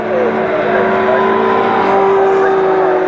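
Caterham race cars lap a streaming wet circuit, engines holding a steady loud drone with shifting pitch throughout, spray hiss beneath and a commentator's voice running over the top.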